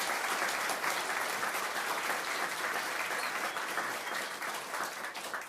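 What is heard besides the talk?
audience applause at military ceremony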